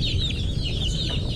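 Young Dumpo Shamo chicks, a Dumpo Basilan cross brood just under a month old, give soft continuous clucking and peeping close by, with no talk over them.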